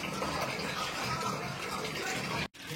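Water pours steadily into a pot of country chicken curry with a constant, close rushing splash, briefly breaking off near the end before resuming.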